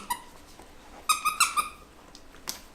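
A squeaky dog toy squeaks in a quick burst of several high, piercing squeaks, fairly faint, with a lone squeak before and another after.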